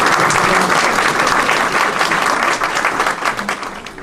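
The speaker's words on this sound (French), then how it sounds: "on peut les applaudir" Loud, dense applause from a municipal New Year's greetings audience in Condé-en-Brie, steady throughout and tapering slightly toward the end.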